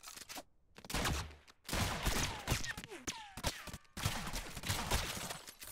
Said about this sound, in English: Ooh, you shot bullets.